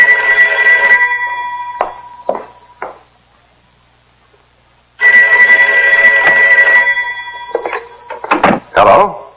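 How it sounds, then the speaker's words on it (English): A telephone bell rings indoors in short bursts with pauses between, loud and close, while people talk over and around it. "Phone. Well, you answer it."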